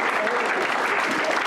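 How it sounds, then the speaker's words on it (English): Audience members at an AFC Wimbledon fans' event applaud, a dense sustained round of clapping that fills the short moment at close range. "Let's have another massive round of applause for all the people that have given up their time today."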